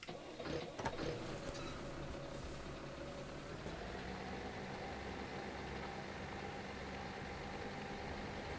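Tractor engine idling steadily in the farming game Farming Simulator 17, a constant low mechanical drone filling the whole clip, with a brief louder clatter near the start and no talking.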